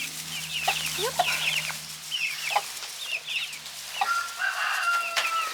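Young hens cluck softly and irregularly at close range, with occasional brief squawks and chirps and no talk.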